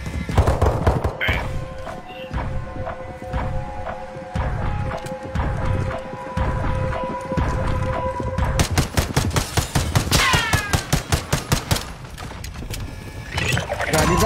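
Rapid gunfire in a video game as the player shoots at oncoming attackers, dense bursts of sharp shots over a steady din, growing into a fast volley of loud cracks in the second half.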